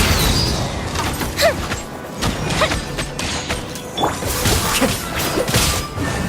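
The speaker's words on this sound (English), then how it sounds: "Fuse is lit! Gather! The wind knows me. Here come the fireworks!" Fireworks go off in Genshin Impact gameplay as a run of sharp crashes and thumping bursts, loud and close, scattered irregularly over a busy background of game effects.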